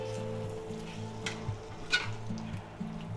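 Sauce thickening in a sizzling shrimp and pepper stir-fry pan is stirred, soft spatula scrapes over a quiet, steady sizzle with a low hum.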